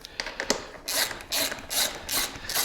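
A hand ratchet tightens a bolt on a 2017 KTM 300 XC dirt bike during a carburetor install, its pawl clicking in several quick, close bursts with short pauses between strokes.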